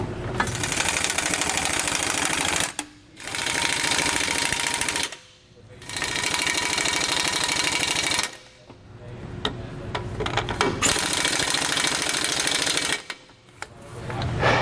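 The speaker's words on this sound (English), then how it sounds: "we'll take our gun and tighten these back down" Impact gun tightening steering stabilizer bolts on a 2017 Ford F-53 chassis: four loud, sustained bursts of rapid hammering, a few seconds each, split by short pauses, alone and close.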